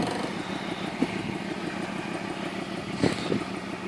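A BMW E39 523i engine idling nearby, a steady even running hum with a couple of faint clicks, no voices.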